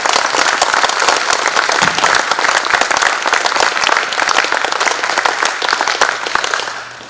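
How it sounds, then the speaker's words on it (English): An audience at a talk gives a loud, sustained round of applause, dense clapping that holds steady for about seven seconds before starting to fade at the end. "Can we give Mac a round of applause?"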